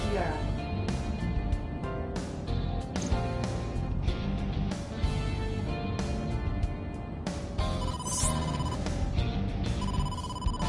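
An incoming-call phone ringtone from the video game AI: The Somnium Files sounds as a loud, steady series of rhythmic electronic ring pulses repeating through the whole stretch.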